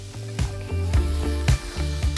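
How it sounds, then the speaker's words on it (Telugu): Gongura curry fries in a pan after chili powder goes in, a steady sizzle broken by repeated sharp scraping and tapping strokes of a spoon against the pan at a fairly even rhythm. "ఓకే, కొంచెం ఫ్రై కూడా అవుతుంది."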